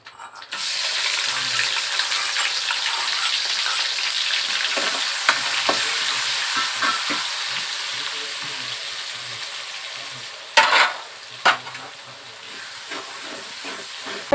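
Chopped and ground onion hitting hot oil with a loud hissing sizzle that settles into steady frying, with scattered stirring clicks and a couple of sharp utensil knocks near the end.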